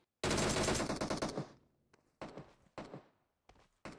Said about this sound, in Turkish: Kim sıkıyor?